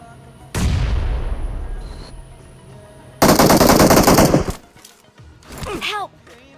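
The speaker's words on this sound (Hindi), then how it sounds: "अब यहाँ पर मैंने उस बंदे को एक शॉट दिया था, लेकिन वो बंदा नॉक नहीं हुआ" Machine gun fire in BGMI, a mobile battle royale shooter: a sharp opening shot, then a loud sustained burst of rapid automatic fire, followed by softer shots and a final short burst.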